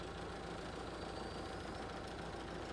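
Hyster H70FT 7,000 lb LP propane forklift engine running, a steady, even drone with a low rumble, continuous and unbroken throughout, with no one talking.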